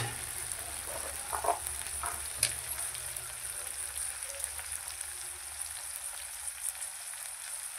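Tomatoes with a little salt and turmeric simmer in a pan over low heat, giving a soft, steady sizzle with faint crackles and a few brief clicks, quiet and close with no voices.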